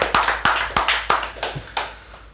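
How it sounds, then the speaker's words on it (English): Seven or eight separate, slow claps ring out one by one at a fight night finale, sharp near hand smacks that gradually soften, with no crowd joining in. "Round of applause, everyone."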